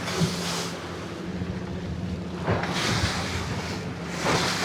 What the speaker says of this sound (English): Oh, the waves,